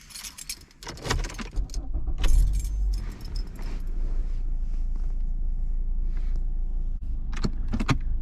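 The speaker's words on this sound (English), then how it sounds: "Now let's turn on the car" Keys jangle in a Ford Fusion, followed by the engine starting and settling into a steady idle, with a few clicks and rattles near the end.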